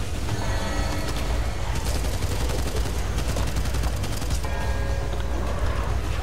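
Rapid gunfire from the video game Back 4 Blood, a dense, continuous barrage of shots with machine-gun bursts and mechanical clatter running loud throughout.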